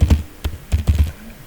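Fingers type on a computer keyboard in a few quick bursts, crisp plastic key clicks landing close and clear in an irregular rhythm.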